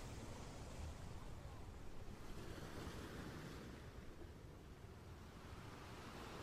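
Waves at the beach, a constant soft wash of surf blended with wind rushing across the microphone, faint and steady throughout.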